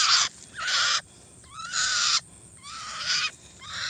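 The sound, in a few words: birds calling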